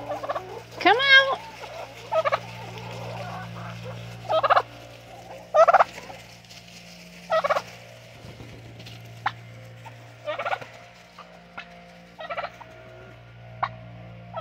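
Backyard chickens on a small woodland farm cluck and call in short, separate bursts, fairly close and clear, with a low steady hum running underneath and no talk.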